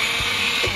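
A motorcycle electric starter with a broken Bendix drive, failing to engage, makes a loud, close, continuous whirring grind with a faint rattling edge throughout.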